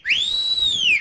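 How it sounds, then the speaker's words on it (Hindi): A police whistle blown once in a single steady, shrill blast of about one second, close and clear with nothing else sounding. "बजाओ सीटी बजाओ।"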